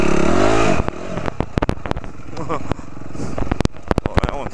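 Dirt bike ridden along dusty hillside switchback trails, engine revving loud and close at first, then broken by sharp clatters and scrapes as it bumps over rough ground.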